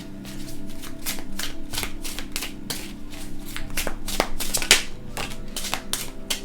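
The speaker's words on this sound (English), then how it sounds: "3 cards flipped at the same time" Tarot cards being shuffled and flipped on a table, a rapid run of crisp riffling flutters and slaps in an irregular rhythm, close and fairly clear, with no voice over them.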